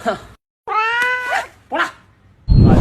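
A cat gives a few close, drawn-out meows, separated by short silences, ending with a burst of noise.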